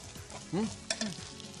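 Vegetables roasting in a pan, a soft low sizzle with a few brief stirring scrapes, quiet and close, over a faint background hum.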